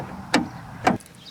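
Rear door of a 1992 Chevrolet Astro van swinging in strong wind, two sharp bumps about half a second apart as it knocks toward shut, close and fairly loud, then faint wind.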